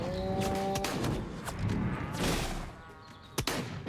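Cows moo in Destroy All Humans!, a long low moo up front and more lowing after, mixed with thumps and sharp gunfire-like cracks.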